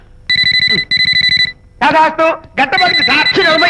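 A telephone rings twice in short bursts of an electronic trilling tone, close and loud, followed by someone talking.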